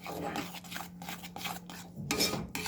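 A spoon scrapes and stirs a roasting mixture in a pan on the stove, cooking it until ghee separates; the scraping and rubbing strokes come in repeated close bursts, fairly soft, with no talking.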